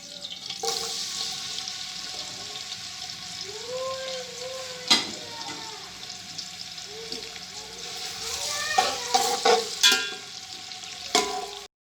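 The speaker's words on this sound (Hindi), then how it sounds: "ऑयल पकने लग गए, अब हम इसमें प्याज डाल देंगे।" A steady hiss of onions frying in hot oil for chicken pulao runs throughout, with scattered clinks and scraping of a utensil in the pan.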